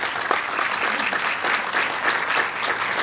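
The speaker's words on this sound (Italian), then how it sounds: "vi prego di accogliere con un applauso" An audience at the Ischia Film Festival 2019 applauds to welcome an Italian film director, a thick, even roar of clapping from a sizeable crowd, steady and close throughout.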